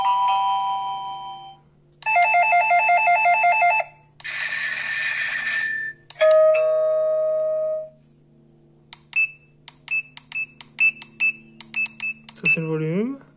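A Lidl wireless doorbell cycles through its ringing tones: several electronic chime melodies and beeping jingles, each a second or two long with short gaps, then a quick series of single bleeps near the end, all clear and close.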